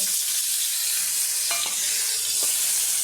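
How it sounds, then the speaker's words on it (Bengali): Eggplant pieces fry in hot mustard oil, giving a steady, dense sizzle up close, broken by a couple of brief scraping stirs of a spatula in the pan. "আমি কিছু বেগুন টুকরো করে রেখেছি ওগুলো ভেজে নেব"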